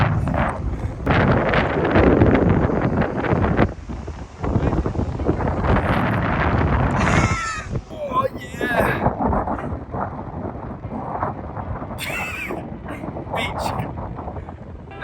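Strong gusts of wind at the beach buffet the microphone in heavy, irregular blasts, with brief lulls and faint voices in between.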